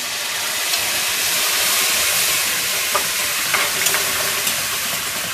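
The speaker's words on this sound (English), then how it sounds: "As soon as it starts to get a little bit sticky to the pan, like it is now, you're going to deglaze the pan" Beef tenderloin pan on a REC TEC grill sizzling loudly as brandy deglazes it, a dense hiss with scattered small pops and spatters, close and continuous with no talking.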